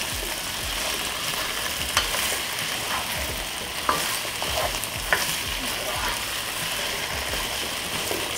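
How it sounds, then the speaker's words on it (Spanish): Potatoes sautéing in a pan give a continuous crackling sizzle with a few sharp utensil clicks and scrapes, fairly close and with no talk. "Voy a sofreír un poco las papas."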